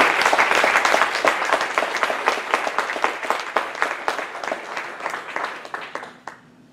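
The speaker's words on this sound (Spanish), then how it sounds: "Denle aplausos al Señor." A church congregation applauding during a Spanish-language sermon, brisk crowd clapping with distinct rhythmic claps, loud and close, tapering off over the last second into quiet room tone.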